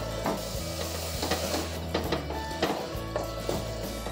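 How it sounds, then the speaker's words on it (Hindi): Soaked rice being stirred into fried vegetables and spices for veg tahri, a spoon scraping and knocking in the pot in an irregular rhythm over a soft continuous sizzle, close by. "चावल को भी हम अच्छे से मिक्स करेंगे।"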